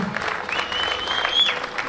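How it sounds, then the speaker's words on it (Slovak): An outdoor crowd applauds half marathon award winners with steady, dense clapping, alongside a faint whistling tone. "veľký potlesk pre všetkých týchto ocenených"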